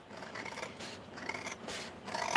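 Scissors cut through paper in a short burst of crisp, repeated snips with a dry rasping edge, close and fairly loud, no voices.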